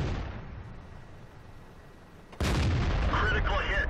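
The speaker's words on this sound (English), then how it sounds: "Critical hit." A World of Tanks tank gun critical hit lands as a sudden loud cannon blast with a ringing, crunching impact after a stretch of low rumbling ambience.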